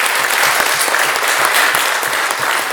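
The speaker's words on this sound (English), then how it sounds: "please give them a round of applause" Applause from an audience at a community center town forum for a discussion panel and presenters, dense, loud and sustained clapping throughout.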